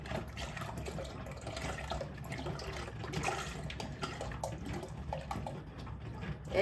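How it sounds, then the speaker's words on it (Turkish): Milk pours from a container into a pot for a magnolia dessert, making a steady, soft, continuous liquid rush with faint splashing throughout and no voices. "Evet arkadaşlar sütümüzü boşalttık."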